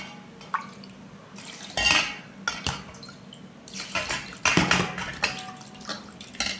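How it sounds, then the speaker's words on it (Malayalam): Sardines being scrubbed and washed in water, with splashing, water sloshing in a vessel and clinks against the pot in irregular bursts, close by. "കുറച്ച് വാരിട്ടിട്ട് ഇങ്ങനെ ഉരച്ച് കഴുകും. വെള്ളം എടുക്കുന്നു."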